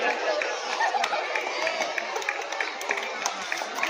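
Guardians in the audience at an annual school sports competition clap to cheer on students, scattered claps popping through a constant murmur of crowd chatter.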